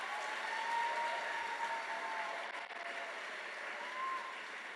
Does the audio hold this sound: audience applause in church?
yes